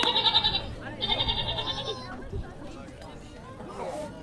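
A goat bleats twice in a long wavering cry near a high school varsity baseball game, with faint crowd chatter around it.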